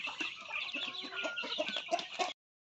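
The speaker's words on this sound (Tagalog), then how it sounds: "ito yung ating mga native chicken" Several native chickens cluck and chatter together in quick, overlapping bursts, close by and fairly busy, with no talking.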